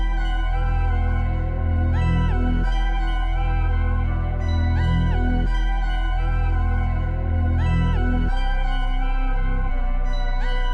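Full trap beat melody built in FL Studio, with repeating synth phrases over a deep bass following the root notes, a dense, steady loop that stays loud throughout, with no voices.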